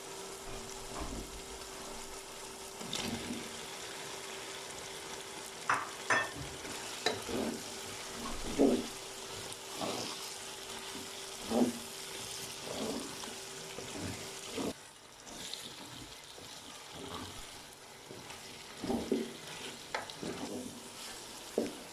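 Carrots and potatoes fry in a pan of spiced oil for an aloo matar gajar curry, a steady close sizzle with repeated stirring scrapes and clinks throughout, no voices.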